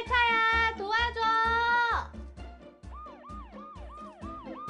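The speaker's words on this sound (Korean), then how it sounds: "경찰차! 맞아, 경찰차가 있었지." A police siren wails loudly at first, then gives way to a quick series of repeated rising-and-falling siren tones over a steady thumping beat.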